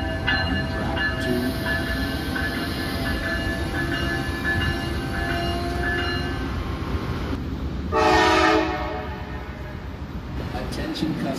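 An Amtrak train at New Haven, Connecticut station sounds its horn, a steady loud blast held across the clip over constant station rumble and hiss, with a brighter surge near the end.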